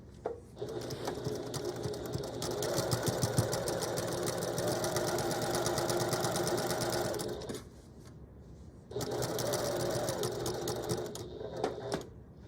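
A sewing machine stitching a flap pocket, running in a long stretch of rapid, steady needle chatter, pausing briefly, then resuming; quiet and close.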